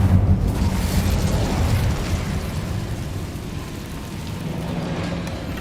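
Incendio fire spell cast in Hogwarts Legacy, a sustained loud roaring whoosh of fire that swells at the start and keeps rumbling steadily throughout.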